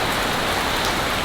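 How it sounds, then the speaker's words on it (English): Heavy rain pours down outside an RV, a dense, loud and continuous hiss of drops striking hard surfaces close by, with no talk. "Unfortunately, it's raining like it is."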